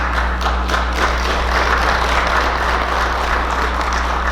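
Audience applause in a large hall at a regional business address, a steady dense wash of clapping that holds evenly at full strength throughout, with no voices over it.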